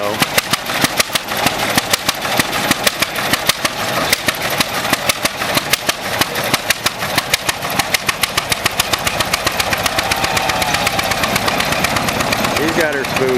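An antique tractor engine idles at a Red Power Round Up show, a steady, close, fairly loud rhythmic chugging that runs evenly throughout and settles slightly smoother toward the end.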